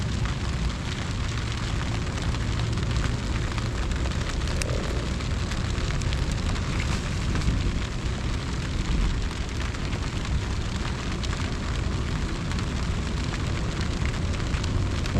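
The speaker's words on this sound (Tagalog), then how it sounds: "Ulan pa oh." Steady rain falls, a dense, even hiss of drops striking surfaces that continues unbroken and fairly loud throughout.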